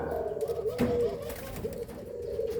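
A captive-bred tekukur (spotted dove) gives soft, hollow coos in a steady, mellow rhythm, fairly close, over a faint background hum.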